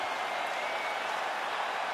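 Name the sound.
crowd applauding and cheering at fight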